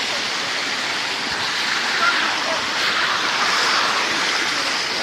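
The Khaiyachara waterfall roars in a steady, loud, broadband rush of falling water that continues unbroken throughout.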